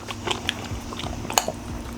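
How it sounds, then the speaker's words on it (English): Open-mouthed chewing of tender cooked pork with pasta, a string of soft wet bites and smacks close to the mic over a low background hum. "I'm chewing with my mouth open,"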